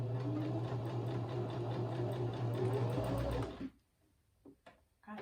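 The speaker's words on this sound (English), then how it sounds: "Sewing sweater pants with the machine really reinforces it." A sewing machine stitches a seam in cashmere sweater pants with a close, fast, steady whirring hum that stops abruptly near the end, followed by a few soft handling clicks.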